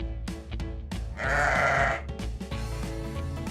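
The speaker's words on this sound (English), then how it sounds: "It's a sheep." A sheep, presented as a farm animal, gives one drawn-out bleat of under a second, near and clear over a faint steady background, with no voices.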